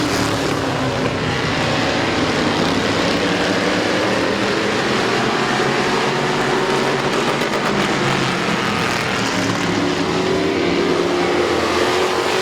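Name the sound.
race cars on speedway track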